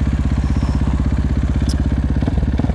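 A Beta 50cc motorcycle engine putters close by in a fast, even chugging rhythm, with a slight rev near the end.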